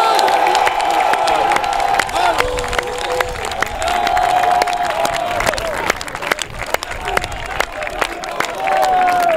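A church congregation cheers, applauds and shouts in acclaim of Jesus, a loud sustained crowd roar with whoops and claps, mixed with raised voices.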